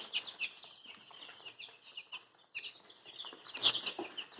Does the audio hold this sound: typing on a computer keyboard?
no